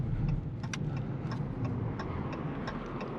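A Dodge Charger RT with a 5.7 Hemi V8 accelerates, a fairly subdued engine rumble building steadily, dotted with sharp, evenly spaced clicks and ticks over the drone.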